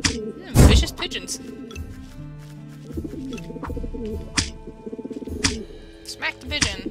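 A pigeon gets smacked in a platform video game, a loud thwack early on followed by cooing bird sounds and a string of quick taps over looping game music, with speech throughout.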